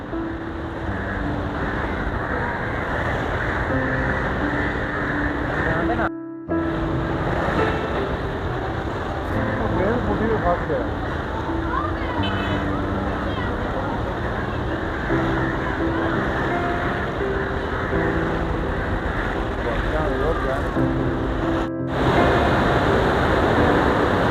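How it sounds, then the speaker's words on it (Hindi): Fast-flowing river water rushes through the Qadirabad headworks as a loud, continuous broadband roar. The sound stays steady and dense throughout, with only two momentary dropouts. "बहुत तेज़ी से पानी चल रहा है भाई, बहुत तेज़ी से जा रहा है।"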